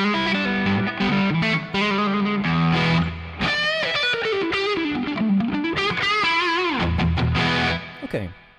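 An electric guitar played through the ToneX amp modeler app on iPad or iPhone, with added gain and presence, rings out loud and distorted in a continuous melodic phrase before fading at the end.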